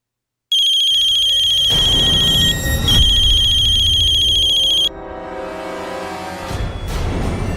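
A mobile phone ringtone trills loudly and steadily for several seconds with a brief hitch midway, then cuts off, leaving quieter background sound.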